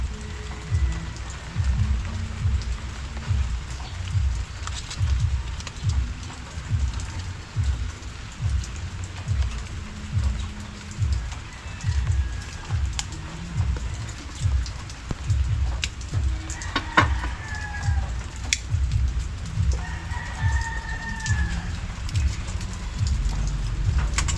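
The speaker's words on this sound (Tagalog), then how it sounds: "Nabot na tayo ng ulan." Steady rain falls throughout, a dense continuous patter with a low rumbling undertone that pulses irregularly, and no voices.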